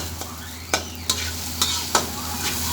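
Fried rice with egg and pork adobo stir-fried in a pan, a steady close sizzle broken by several sharp scraping strokes of a spatula at uneven intervals, with no voices.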